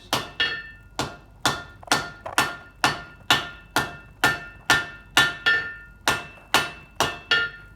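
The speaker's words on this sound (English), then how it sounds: "So now, we're forging the diamond areas." Leaf spring steel being hammer forged into a spear head, a close, loud run of about thirteen sharp metallic hammer blows at a steady, even rhythm, each ringing briefly before the next strike, with no talk.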